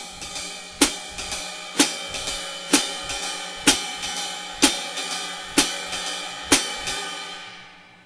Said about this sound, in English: Figure 41 is an example of swing. Again, I'll play 4 measures of swing.